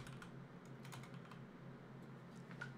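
Steady typing on a computer keyboard while entering a program search on a PC, quiet and close, with irregular clusters of soft key clicks and no talk.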